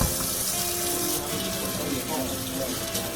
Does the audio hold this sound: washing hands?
yes